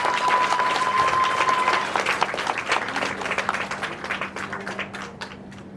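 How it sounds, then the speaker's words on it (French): An audience claps for a family at a civil ceremony in a local commune, loud and dense at first with a steady tone beneath, then thinning into scattered individual claps toward the end. "je voudrais que vous m'aidiez à applaudir cette famille"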